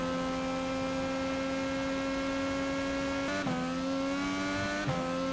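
IndyCar in the iRacing sim, a steady high-pitched engine drone held at constant revs with two brief dips as it shifts, loud and alone without speech.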